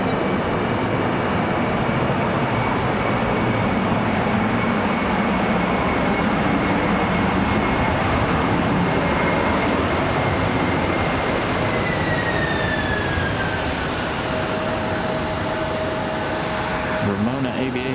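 Airliner passing low overhead at Raleigh Durham International Airport, a loud, steady broadband engine roar with a slowly falling whine, continuous throughout.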